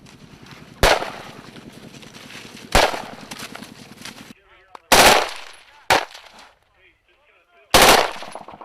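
Live military machine gun fire on a training range: a long rattling burst, then several sharp loud bursts separated by gaps, with a faint voice in the quieter stretches.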